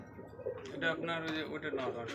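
Pigeons coo softly nearby, in low throaty murmurs that rise and fall over a faint background hum.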